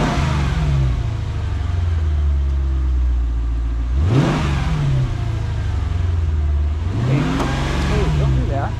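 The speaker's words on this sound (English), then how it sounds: "Give it a couple of revs and see if it'll clear a little bit more." A Mercedes C55 AMG with a freshly swapped manual gearbox idles at a loud, steady burble, then is revved sharply twice, each rev rising and falling back to idle.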